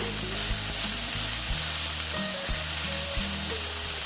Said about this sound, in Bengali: মোটামুটি আমার ঢেঁড়সটা ভাজা হয়ে গেছে বেশিটা চাপ বেশি ভাজবো না